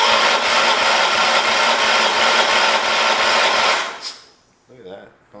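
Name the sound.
1978 John Deere 316 engine being cranked over to test fuel pump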